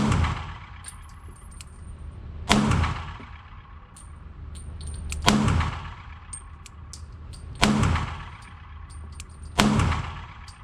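A Phoenix Drake firearm fired at about ten yards on a range, four sharp reports spaced roughly two and a half seconds apart, each followed by a fading ring, close and loud with quiet gaps between.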